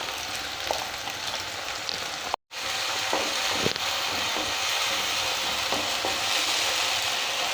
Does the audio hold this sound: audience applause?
no